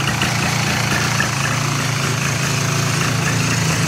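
Polaris ATV engine running steadily at a low idle while its choppy drive belt spins, a continuous close mechanical drone with no voices.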